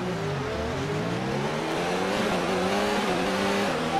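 A Formula 1 car on track in F1 2019 holds a loud, steady high-pitched engine whine with rising and falling revs, close and continuous with no talk.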